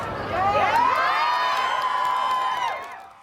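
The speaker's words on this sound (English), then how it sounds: "those cheering students were at West High in Salt Lake City today" Students at West High in Salt Lake City cheer and shout together during a school walkout, a loud, sustained crowd roar with whoops and high voices that holds for about three seconds before fading.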